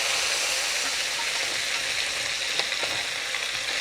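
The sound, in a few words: garlic frying with chicken meat in a pan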